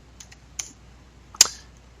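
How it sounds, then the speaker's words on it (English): Terminal commands are typed on a computer keyboard, with a few sparse, crisp keystroke clicks close up in a quiet room and the last tap the loudest. "I'm just going to type them out"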